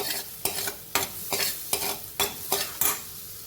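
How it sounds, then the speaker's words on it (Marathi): Onion and garlic with a pinch of salt sautéing in a pan for fasting ash gourd soup; about seven rhythmic scraping stir strokes sweep over a bright sizzle, close and even, no voices. "कांदा परतला जावा लवकर म्हणून एक चिमूटभर मीठ घातलेलं आहे"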